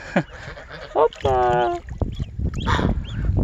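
Grown geese and ducks in a village: a few short, distinct honks and one drawn-out nasal call from close by, with scuffling and low background noise between them.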